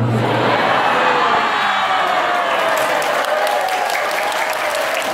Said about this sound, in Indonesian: Tepuk tangan aja.